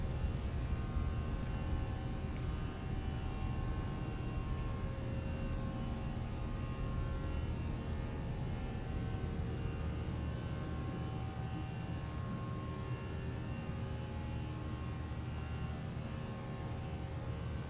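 Airliner taking off and climbing in a flight simulator, a steady droning engine roar with faint tonal whine, constant in level throughout with no talk.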